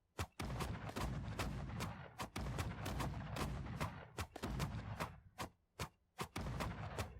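Cannon towers in a Dreams tower defense game fire a rapid string of heavy booming thuds, loud and close, with short gaps between bursts and no talk over them.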